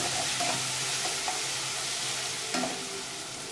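Ginger and garlic sauté in a pan for mushroom pasta, giving an even, moderately loud sizzle with a few faint stirring knocks.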